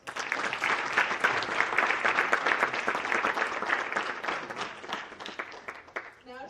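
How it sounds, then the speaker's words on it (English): Sustained applause from a seated audience at a high school FFA banquet honoring supporters, dense steady clapping filling the room for several seconds before tapering off near the end. "please join me in another round of applause for all of our supporters"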